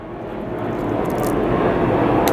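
A loud airplane roars overhead, a broad rumbling drone that swells steadily over a couple of seconds, with no one speaking.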